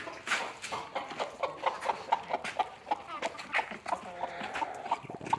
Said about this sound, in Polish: bo tu młode kury się noszą.